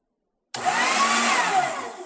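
A new electric meat grinder switches on abruptly after a moment of silence and runs with a loud, steady whirring motor hum close by, no talking.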